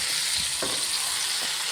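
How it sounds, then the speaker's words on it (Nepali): Meat sizzling and frying in a pan, a steady close hiss with a few faint stirring clicks and scrapes. "मासुलाई फ्राई हालिदिँदैछु।"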